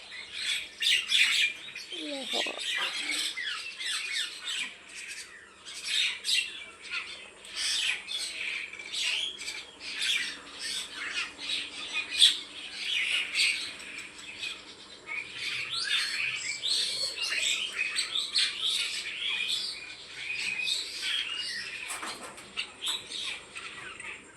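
A flock of birds squawks and chirps busily while eating chanachur, a spicy fried snack, the sharp calls overlapping almost continuously at moderate distance, with a brief flutter of wings.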